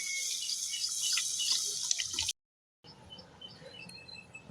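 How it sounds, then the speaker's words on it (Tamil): Tamarind water poured into a sizzling anchovy fish curry base in a pan, a bright hissing, bubbling splash that runs for a couple of seconds, cuts out, then resumes as quieter frying and simmering. "கருகிறதுக்குள்ளார நம்ம புளி தண்ணியை ஊற்றிடலாம்."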